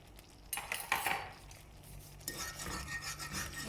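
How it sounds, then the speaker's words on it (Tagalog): Creamy mushroom gravy sauce being stirred in a pan, a spoon scraping and rubbing against the metal in uneven bursts, close and fairly loud, with a steadier stretch of scraping toward the end. "Haluin lang natin siyang mabuti."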